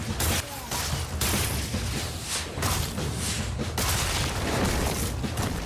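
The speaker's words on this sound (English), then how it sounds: "Gonna shoot some rockets." Eruptor, the Skylanders Imaginators character, firing a steady barrage of rockets in a video game: dense overlapping booms and thumps, loud and continuous across the stretch.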